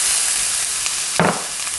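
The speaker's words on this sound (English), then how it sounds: "So we're going to saute some onions." Onions and celery sauté in a pan with a steady, close sizzle, and a brief louder burst of stirring or scraping comes partway through, with no talking.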